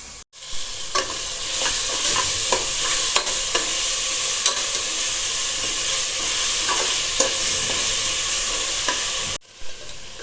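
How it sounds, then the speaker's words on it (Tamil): Ground coriander, garlic and ginger paste get stirred together in a hot frying pan: continuous close sizzling with repeated scraping strokes of a spoon, no voices. "இதெல்லாம் ஒன்றா போட்டு மிக்ஸ் பண்ணிக்கலாம்."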